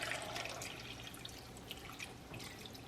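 Water poured into a pot of Knorr chicken bouillon in a home kitchen, a soft, steady splashing and trickling that stays faint throughout.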